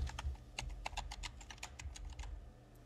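Quick, light key clicks from typing on a computer keyboard, a rapid run of a dozen or so presses at close range, fairly quiet, with no speech.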